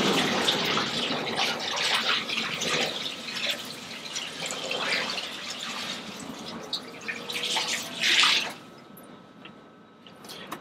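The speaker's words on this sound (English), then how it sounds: "I'm going to grab a bucket of water, pour it in there, and then catch it on the back end." Water from a bucket pours and splashes through a Lone Star Grillz offset smoker, draining and dripping out the back end in a steady close gush that tapers off near the end, with no one talking.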